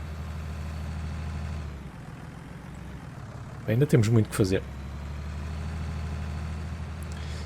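A tractor engine in the farming game Farming Simulator 19 idles with a steady low rumble that dips briefly partway through, while someone speaks over it.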